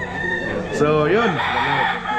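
A rooster crows once at a chicken farm in Laguna, close and loud, over a busy background of other birds, with a voice speaking briefly.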